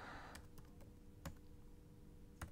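Keystrokes on a Mac keyboard typing a whois command in Terminal: a few sparse, sharp clicks spaced irregularly over a quiet background, with no talking.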